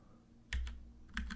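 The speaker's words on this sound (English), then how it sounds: "And I can type in" A computer keyboard is typed on in two soft, close pairs of keystrokes, quiet clicks with a short pause between them.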